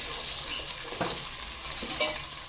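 A spoon stirs onion, garlic and ginger frying in oil for chicken biryani, giving a steady, even sizzle with a couple of brief scraping strokes against the pot, with no voices.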